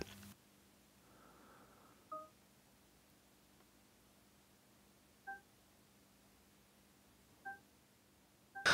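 Three short, faint electronic key-press beeps from an Alpine iLX-705D car radio, key sound volume set to 1, spaced a few seconds apart against a quiet background hum.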